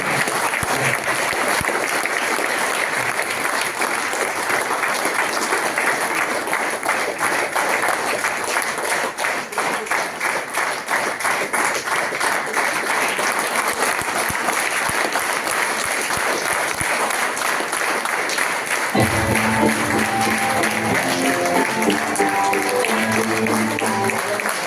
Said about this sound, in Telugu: ఒకసారి గట్టిగా క్లాప్స్ కొట్టండి